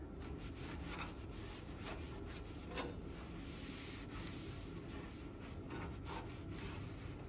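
Dirty grille trim on a 1973–77 Ford F-Series pickup is wiped with a cloth, giving a faint, continuous rubbing and scrubbing close up with short strokes, and no voices.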